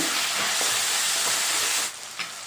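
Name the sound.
frying green chillies in a pan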